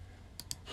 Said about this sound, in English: oh, sorry for the clicking noise.